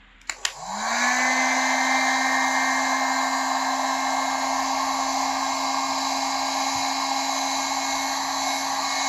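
A heat gun clicks on and spins up to a steady loud whine and airy rush while warming the crashed front bumper of a BMW 330e, running continuously close by.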